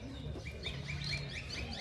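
Small bird at a wild animal zoo chirping in a quick run of short, bright tweets over a steady low background hum, moderately near and continuous.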